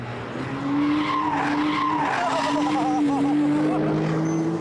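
A Porsche with Active Suspension Management slides sideways, its tires squealing in a long wavering skid under steady engine drone, with a presenter's voice faintly in the mix.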